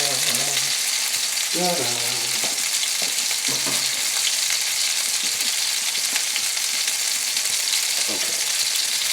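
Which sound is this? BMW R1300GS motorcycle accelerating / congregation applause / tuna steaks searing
tuna steaks searing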